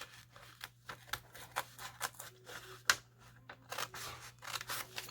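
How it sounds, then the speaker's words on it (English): Scissors snip through paper in a quick, uneven series of close, crisp cuts while a paper flower craft is made, with no voices over the cutting. "you're going to take your scissors and you're going to cut"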